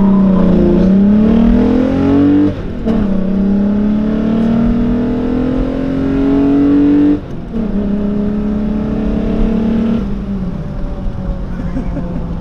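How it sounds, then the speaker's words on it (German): A Volkswagen Golf VR6 engine with bearing damage revs and pulls through the gears, its tone rising in long sweeps broken by two shift dips, loud and close with a steady harsh drone. "den geilen VR6 Motorsound mit Pilz"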